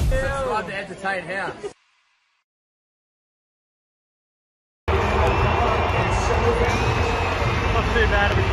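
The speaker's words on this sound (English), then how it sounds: "Not too bad of a crowd." Stadium crowd at an NRL Bulldogs versus Eels round 15 game roars as a broad, constant wash of noise after a short bit of talking and a silent gap, loud and continuous to the end.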